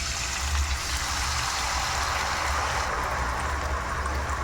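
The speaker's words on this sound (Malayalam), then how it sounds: "ഇനി നമുക്ക് കുക്കറിലിരിക്കുന്ന ഈ മസാല ഈ പാനിലേക്ക് ഒഴിക്കും." Masala from a pressure cooker pours into a pan for a homemade shawai, a continuous wet gushing splash held at moderate volume for a few seconds, with no talk.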